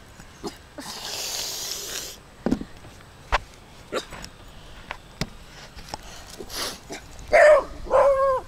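A dog barks and yips in a few short, fairly close bursts near the end, following scattered rustling and footsteps outdoors in the Puerto Rican wilderness by a tunnel.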